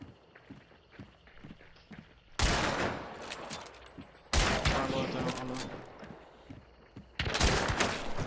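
Three loud, sharp gunshot blasts in the first-person shooter Hunt: Showdown, each a sudden broadband crack with a long reverberant tail, preceded by quieter rhythmic footsteps.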